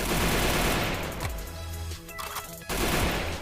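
Heavy automatic gunfire in a shooting video game on the Rampage map, a loud rapid burst that briefly drops away and then resumes, close and dense, with no speech.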